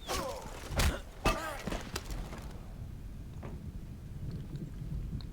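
Rain and thunder in the video game Far Cry 5: a few sharp thunder cracks and rumbles in the first two seconds, then a steady hiss of rainfall continuing at moderate level.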